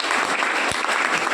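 Loud, steady applause from an audience at a meeting in Lakhisarai, held in honour of Kundan sir, filling the room continuously with no break.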